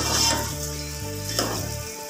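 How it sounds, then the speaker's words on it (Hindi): Onions browning in a pan for saffron kofta curry sizzle softly and steadily up close for a couple of seconds, with a faint humming tone running underneath. "ज़ाफ़रानी कोफ्तों के लिए मैं प्याज ब्राउन कर रही हूँ।"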